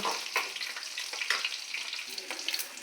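Green chillies frying in hot oil, a faint, crackly close sizzle with small popping bursts over a short stretch.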